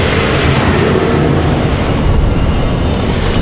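Copa Airlines flight from Panama City on final approach to land at Raleigh-Durham International Airport, a loud, steady jet roar that holds at full strength throughout.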